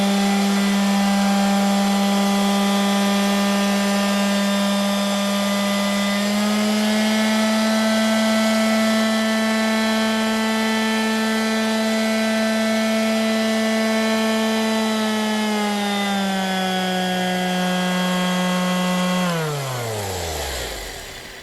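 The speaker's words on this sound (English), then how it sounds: "the new brake has restored the proper, controlled rotation of the pad" A random orbital sander fitted with a new brake and pad runs with a steady, loud motor whine at an even pitch, which rises partway through and then winds down near the end, with no talking.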